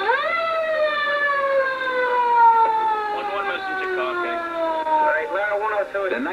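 An FDNY fire engine's wailing siren sounds loud and close throughout its short run through the streets in 1974, holding a steady tone that slides slowly downward. Faint background noise sits underneath it.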